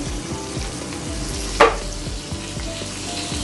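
Steady, close sizzling and crackling of spices (salt, turmeric, cumin, ginger-garlic paste and a splash of water) frying with farm chicken in a pan, with one sharp stirring scrape partway through.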